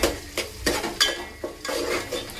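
A spoon scrapes and clinks around a pan while turmeric and spices are mixed into a soybean khichdi, several distinct stirring strokes over a faint sizzle, close and fairly quiet.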